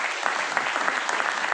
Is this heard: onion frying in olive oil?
no